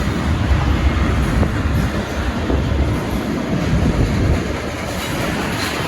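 Intermodal freight train hauled by Warbonnet-painted locomotives passing beneath at Northtown Yard: a loud, steady rumble with rolling wheel clatter and a faint squeal, continuous and close throughout.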